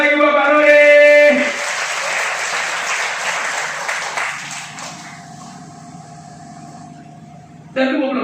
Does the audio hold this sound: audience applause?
yes